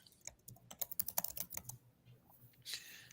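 Computer keyboard typing in an office, a quick irregular patter of keystrokes in bursts, fairly close, then a brief pause and a final short cluster of clicks.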